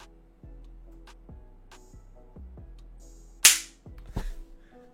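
A rubber popper toy, a small half-sphere turned inside out and set down, springs up with one sharp, loud pop that rings briefly. Softer taps and knocks come before it, and a second, fainter snap follows.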